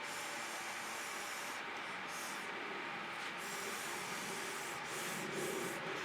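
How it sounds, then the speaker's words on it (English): Fluid acrylic paint spread across a canvas with a spatula, a steady close scraping and rubbing texture running continuously and evenly throughout, with no talking. "I really think I can also go back in and spatula again."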